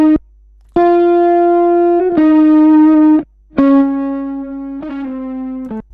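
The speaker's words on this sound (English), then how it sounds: "And then we'll add some distortion to it." A guitar loop played through a distortion effect, loud and saturated, with sustained harmonic-rich chords in several phrases separated by short gaps.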